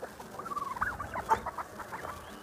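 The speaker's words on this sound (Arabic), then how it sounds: "الدجاج الغريب اللي على المزرعة اللي جاء" Chickens cluck nearby in a short burst of soft, overlapping calls against faint background noise.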